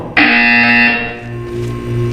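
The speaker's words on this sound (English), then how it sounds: "When you hear the buzzer, look down at the floor." A loud electronic buzzer in Portal 2 sounds once, a sustained harsh tone that holds for about a second and then decays, leaving a low hum behind it.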